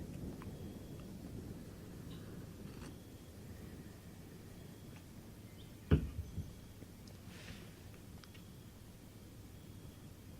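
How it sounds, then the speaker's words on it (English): An approaching thunderstorm in a video game: a soft, steady rain-like hiss runs throughout, broken by one sudden close crack of thunder and a few smaller rumbles. "Sounds like a storm's coming in."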